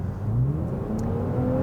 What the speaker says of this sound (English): This TRD sport-tuned catback exhaust